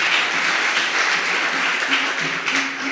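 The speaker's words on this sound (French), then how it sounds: "Acclame le Seigneur Jésus-Christ de Nazareth" A church congregation applauds in a steady, dense wash of clapping that fills the room without a break.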